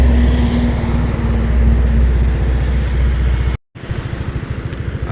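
Heavy tour buses pass along the southern ring road on the outskirts of Palembang, a loud, steady low engine drone with a pulsing rhythm, broken by a brief drop to silence before the rumble resumes.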